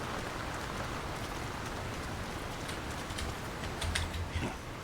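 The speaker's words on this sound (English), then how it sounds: "Who could live in a town where it's always raining?" Constant rain falling over a town in the video game The Lord of the Rings: War in the North, a dense steady patter with a few brighter drips and taps near the end, no voices.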